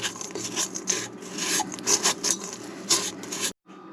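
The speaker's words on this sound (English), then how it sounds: "See any big chunk of butter? Just break it up with your spatula." A spatula scrapes and rubs through butter chunks mixed into flour for sourdough chocolate chip cookie dough, a close series of rough, rhythmic rasping strokes that stop abruptly near the end.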